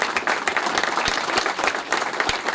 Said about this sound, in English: So he deserves a round of applause.